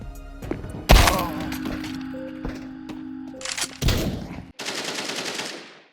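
A Nova shotgun fired in a Counter-Strike match: a loud close blast near one second with a ringing tail, followed by further sharp cracks and a burst of harsh noise, with no talking.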